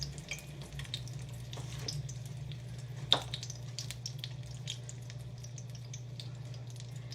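Biscuit donuts fry in warm oil on a stovetop, giving a steady low bubbling hiss with a brief sharp clink partway through, close and fairly quiet, no talking.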